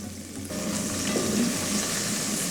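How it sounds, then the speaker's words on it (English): Onions sizzling in about two tablespoons of hot oil, a hiss that jumps up suddenly about half a second in and then holds steady and loud, close to the pan, with no voices. "Give it a few minutes for the oil to heat up before you add your onions"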